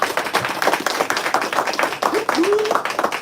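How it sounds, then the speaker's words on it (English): An audience at a live show claps and applauds steadily, a dense patter of hands running throughout while a voice speaks loudly over it. "We're going to do a resounding round of applause."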